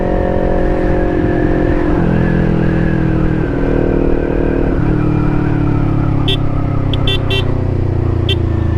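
Motorcycle engine running steadily and loud up close, with pitch shifts as it revs on a roadside stop, and short horn-like toots near the end.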